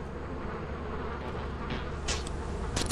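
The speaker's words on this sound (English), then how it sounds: "Bees in the ship." Bees buzz in a steady dense drone inside the ship in the video game Lethal Company, close and continuous for a few seconds with brief brighter bursts near the end and no talking.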